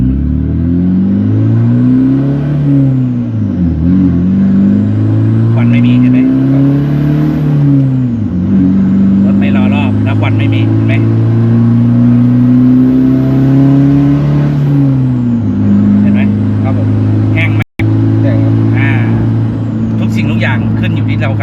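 A turbocharged Toyota Revo drag racing pickup driven slowly: loud, close engine drone with revs rising and falling repeatedly as it pulls through gears.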